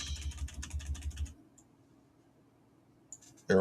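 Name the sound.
pressing arrow keys on a computer keyboard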